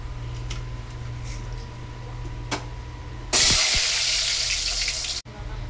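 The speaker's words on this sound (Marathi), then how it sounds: "जे तेल तापलेलं आहे, आधी बटाटे फ्राय करून काढते." Potatoes drop into hot oil for frying in a home kitchen and set off a loud, bright sizzle that hisses steadily for a couple of seconds before cutting off sharply, after a quieter stretch of background hum.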